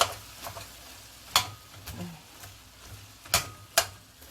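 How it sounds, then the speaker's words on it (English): Rice is tipped into a frying pan and stirred for Jamaican-style egg fried rice, with a soft background sizzle broken by several sharp scraping and clattering strokes of a utensil against the pan at irregular intervals. "Okay, so I'm adding the rice."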